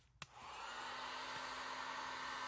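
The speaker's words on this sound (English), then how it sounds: "now I'm using a heat gun to soften up the foam" A heat gun softening foam for a zombie puppet build: after a click it starts with a steady, loud blowing whir that holds evenly, close by and alone.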